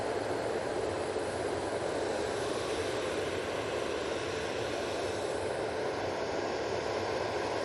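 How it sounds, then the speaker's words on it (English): A Ryanair Boeing 737-800 arriving from Valencia at Manchester Airport, heard as a steady, loud broadband jet roar that holds constant throughout with no voices. "Next in, we have the Ryanair from Valencia,"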